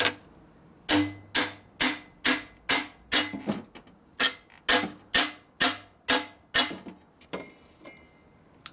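A big hammer strikes a Harley-Davidson panhead motorcycle part in a steady run of about a dozen loud, ringing metallic blows with short gaps between them and no talking.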